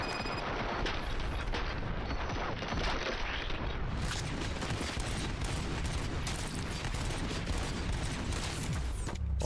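Heavy video game gunfire during a battle to clear a station, a dense continuous roar of shots and booms that fills the scene from start to finish.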